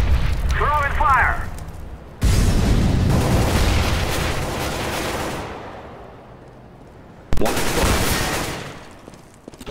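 Gunfire and grenade blasts in the game CS:GO, heavy booming bursts and rapid shots that cut in abruptly and decay, with a voice talking over part of the clip.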